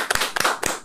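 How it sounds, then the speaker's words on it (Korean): Three or four sharp hand claps, close and distinct, in quick succession. "박수."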